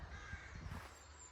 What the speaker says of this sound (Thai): อีการ้องเพลาะมากเลย